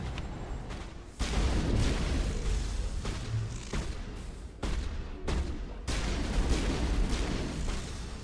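Heavy weapon fire in Mass Effect 1 booms in loud, repeated bursts separated by brief pauses, a dense, thudding barrage close at hand.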